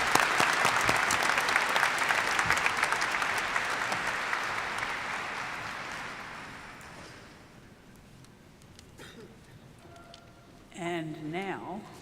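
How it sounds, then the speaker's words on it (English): Loud, dense applause from an audience at a commencement ceremony honoring the governor, sustained for several seconds before fading out, followed by a voice speaking near the end. "One more round of applause for the governor."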